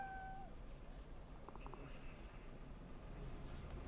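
A cat meows in the game Cyberpunk 2077, a short faint cry early on over a steady low rumble of background noise.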